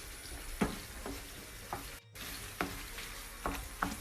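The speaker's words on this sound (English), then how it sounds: "We're gonna put it in the whole jar. Okay, and then we're going to mix it up." A whole jar of chunky tomato sauce for lasagne is mixed in a pan over medium heat, with a faint sizzle and soft, scattered scraping stirs in an irregular rhythm.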